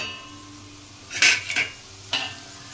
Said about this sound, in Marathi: याच्यावर मी आता झाकण ठेवते।